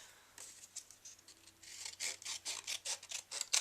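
A piece of cardstock being cut while making a butterfly card, quiet rhythmic rasping strokes that grow steadier and louder in the second half, with no talk.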